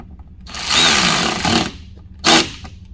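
A power tool driving a 7mm socket to tighten an upper mud flap mounting bracket on a 2021 Ford F150: a longer close whirring burst, then a short second burst.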